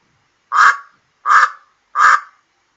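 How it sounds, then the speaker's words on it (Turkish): Three short, loud, raspy calls spaced evenly apart, each a harsh burst with a quick fade, from a duck quacking close by with silence between. "Bu bir ördek."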